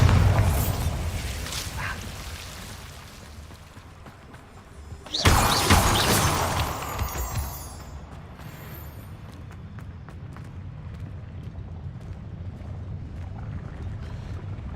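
A Bombarda blasting spell goes off in Hogwarts Legacy, a single sudden loud boom midway that crashes out and trails away over low ambient game sound.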